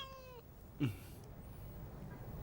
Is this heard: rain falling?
no